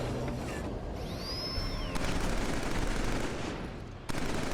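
Rapid automatic gunfire in the shooter Killzone, steady bursts of shots rattling continuously at moderate level with a sharp whooshing sweep early on and a brief break before firing resumes.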